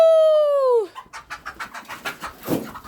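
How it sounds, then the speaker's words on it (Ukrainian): A young rooster lets out a loud, wavering crow that breaks off, followed by chickens clucking in a steady, rhythmic series nearby. "Воно молодий півень."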